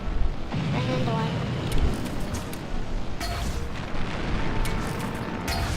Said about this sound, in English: So now the Millennium Falcon can drop bombs.